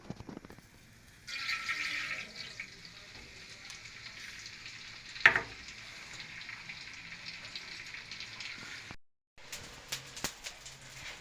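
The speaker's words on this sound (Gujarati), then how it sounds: "આ ઘી ગરમ કરી લીધું છે, એમાં આપણે ગુંદર નાખીશું" Edible gum dropped into hot ghee for adadiya pak sizzles and crackles steadily, with a sharp burst of frying partway through, a brief cutout, then renewed sputtering.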